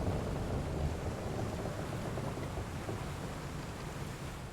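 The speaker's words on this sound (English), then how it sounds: "Yar, there be storms on these seas." A thunderstorm at sea in a Final Fantasy XIV cutscene: continuous broadband roar of wind and crashing waves, loud and steady, slowly easing off toward the end, with no voices.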